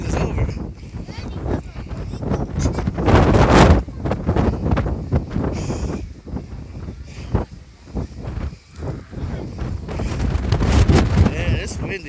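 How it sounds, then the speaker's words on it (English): Strong wind gusts batter the microphone on the Pacifica pier, roaring and buffeting loudly in uneven surges for several seconds while people talk nearby. "Man, it's windy."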